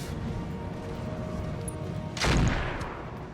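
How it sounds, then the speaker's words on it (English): Autocannon fire from an AC5 aimed at a turret in RogueTech, the BattleTech mod, with a single loud, heavy blast near the end that rises over steady battle noise. "Shooting at turret"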